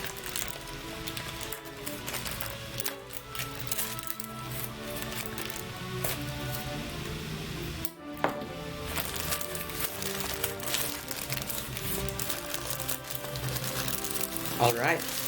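Gray plastic packaging around an Anne Pro 2 mechanical keyboard rustles and crinkles in dense bursts throughout, close by, while a person talks over the handling.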